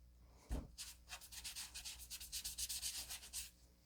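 A sponge rubbed against a Garden Green ink pad in quick repeated scrubbing strokes, close and fairly soft, beginning with a light tap and continuing steadily with no talk.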